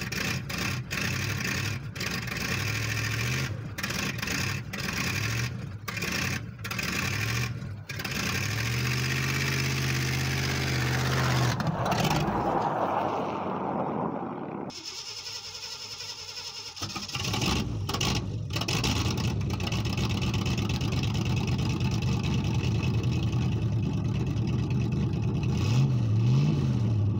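A 1970 Chevy Impala V8 cold-starts, then idles roughly with sharp revs rising and dropping, a brief cut-out midway before the engine settles into a loud, steady idle close by.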